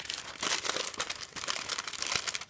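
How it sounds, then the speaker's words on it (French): Adhesive tape crinkles and rips close up, a steady papery rustle as a strip is pulled and pressed down to line a soap mould. "mettre un petit morceau de scotch ici pour le maintenir"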